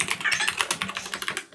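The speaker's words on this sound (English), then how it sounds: "Let me see if I can type." Rapid, close keystrokes clatter on a computer keyboard in an uneven burst of clicks, alone with no voices.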